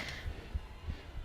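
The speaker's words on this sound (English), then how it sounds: "the sound of my heartbeat in my ears is" Heartbeat effect in the Resident Evil Village video game, low muffled thumps recurring at a steady pace beneath a faint hum, heard without any talking.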